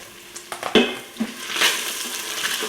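Garlic and onions sizzle in a frying pan with a steady hiss, joined by the scrape and knock of a spoon stirring, close and fairly loud with no talking.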